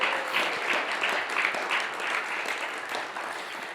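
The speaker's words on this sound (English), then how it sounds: "Applause for this." Sustained audience applause at a façade design awards event, a dense even patter of many hands clapping at steady loudness throughout, with no voices standing out.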